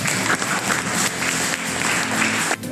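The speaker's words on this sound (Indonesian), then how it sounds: "tepuk tangan untuk kita semua dulu" Applause in a classroom session, a few seconds of steady, fairly close clapping from a group, ending abruptly.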